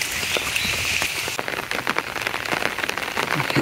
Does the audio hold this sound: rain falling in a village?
yes